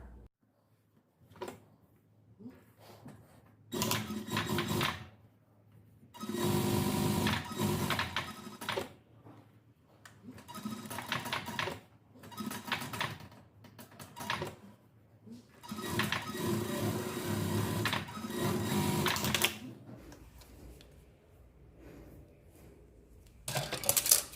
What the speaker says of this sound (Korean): 여기에 스티치 한번 합니다.